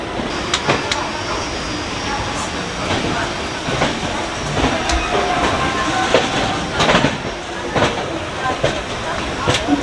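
Sabarmati Express arriving at Varanasi station, a loud rolling rumble with rhythmic wheel clacks and brake hiss over about ten seconds, with people talking nearby.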